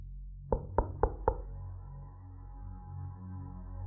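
Four quick, evenly spaced knocks land on a door in a Korean horror radio drama, close and sharp, then fade into a low, quiet ambient hum.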